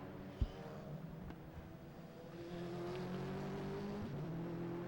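Race cars in a British circuit race chase a BMW, engines building from a distant hum into a steady, rising drone with a brief thump early on, faint and somewhat far away.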